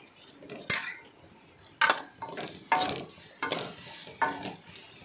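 A spoon stirs masala in a pan for egg gravy, with about six distinct scraping, clinking strokes at a steady rhythm over a soft sizzle, close and fairly loud.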